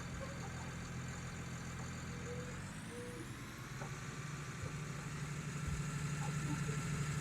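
A tractor engine idles in a farming video game, a low, steady rumble with a faint mechanical whine that rises slightly in pitch partway through, and the engine grows a little louder toward the end.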